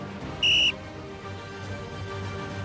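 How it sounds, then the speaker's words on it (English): A single sharp whistle blast signalling a race start, loud and clear, lasting about a quarter second, over a low background hum. "I'm going to replace my stopwatch and blow my whistle instead"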